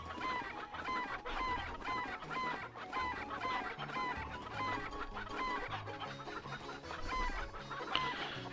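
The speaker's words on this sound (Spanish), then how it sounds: "Mira dónde han ido todas las gallinas de las narices." Chickens cluck and squawk repeatedly through a Breath of Fire IV PlayStation game scene, steady and prominent over layered game music, with occasional brighter crow-like calls.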